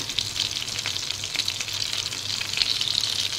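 Cumin seeds sizzle in a pan of hot oil and melted butter, a close, continuous, crackling fry that holds steady from start to finish with no voices over it.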